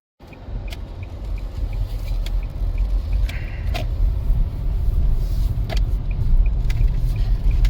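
A car drives steadily on a road on a sunny weekend, its engine and tyre rumble continuous and close, with faint clicks and brief knocks above the hum and no one talking.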